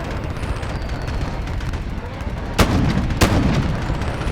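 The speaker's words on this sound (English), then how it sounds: "Allied cruise missile launched" A cruise missile strike in the video game Call of Duty: Modern Warfare: two heavy booming impacts about half a second apart break through a dense, continuous roar of battle noise.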